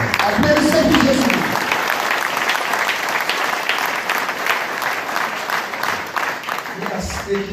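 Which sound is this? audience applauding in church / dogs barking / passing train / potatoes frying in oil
audience applauding in church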